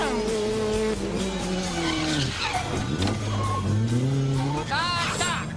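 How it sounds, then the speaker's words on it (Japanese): Tires squeal and skid from drifting race cars sliding through a smoky battle, with long rising and falling screeches and engine whine, loud and continuous under excited commentary. "この煙とタイヤの音が"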